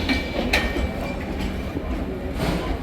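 A train rolls into a railway station in Kozhikode with a steady, close rumble and rhythmic wheel clatter. A few brief metallic squeals cut through the noise.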